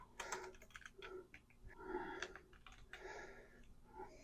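Quiet clicks and taps of typing on a computer keyboard while entering a home budget in Excel, irregular and soft, close up.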